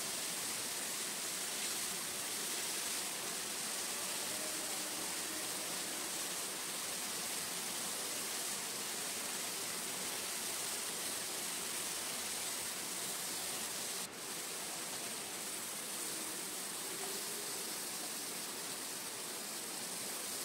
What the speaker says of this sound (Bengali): এইভাবে আমি সমস্ত চিকেনগুলো ভেজে নিলাম।